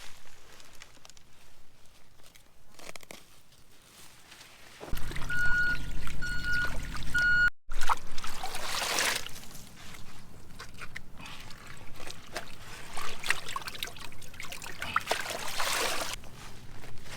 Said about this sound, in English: by picking the lettuce and putting it in the cold water, we're trying to accomplish two things